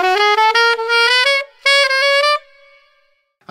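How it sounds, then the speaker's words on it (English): A solo saxophone plays the second bridge phrase at a quicker pace, a quick run of short, bright notes, a brief gap, then a few more notes ending in a fading tail. "Now here's phrase two of the bridge, played faster."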